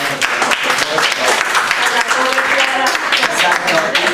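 An audience claps loudly and continuously, with a voice speaking over the applause.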